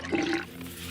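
Water running from a sink tap in a cold setting at 35 below wind chill, a short steady rush of flow heard alone at moderate level for under a second.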